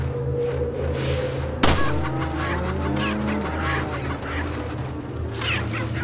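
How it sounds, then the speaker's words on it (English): Chickens squawk and cluck loudly on a farm in the Resident Evil 4 video game, with a sharp hit partway through, then agitated bursts of clucking and honking calls that continue to the end. "Chickens didn't like that."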